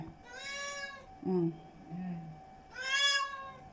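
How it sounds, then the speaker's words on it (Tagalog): A cat meows twice, loud drawn-out cries near at hand, with brief low voice sounds between them. "Laki, nagnyanyaw-nyaw na naman yon."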